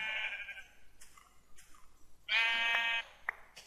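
A sheep in Minecraft bleats several times as it dies, with short distinct cries separated by quiet gaps and the loudest, longest bleat near the end.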